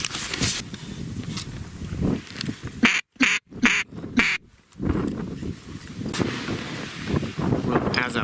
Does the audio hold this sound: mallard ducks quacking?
yes